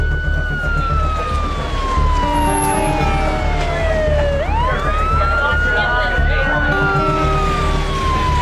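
An ambulance siren wails loudly and close by in an urban street scene, sweeping up and down in pitch with a second siren layered over it, and traffic rumbles beneath.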